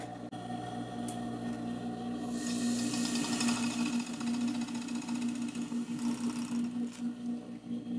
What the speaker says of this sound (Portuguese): Agora vou estar costurando no vestido.